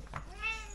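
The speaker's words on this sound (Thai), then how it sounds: "แมวบ้านเราเยอะแล้ววุ่นวายนะ" A house cat gives one short meow, quiet and close, against a faint room background.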